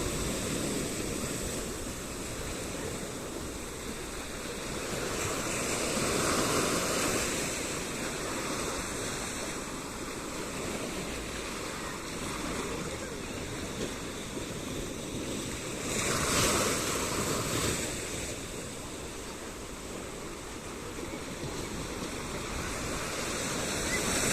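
Ocean waves of warm water roll and break on the shore in a continuous surf roar that swells and ebbs, with some wind rumble on the microphone and no voices.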